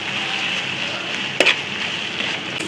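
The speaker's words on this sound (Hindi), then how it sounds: "तेल हमारा गर्म हो चुका है। इस टाइम पर कि हमारे पास एक प्याज है, बारीक स्लाइस में कटे, इसके अंदर ऐड कर देंगे।" Finely sliced onions fry in hot oil for a karahi, giving a close, even sizzling hiss throughout with one brief sharp clatter midway.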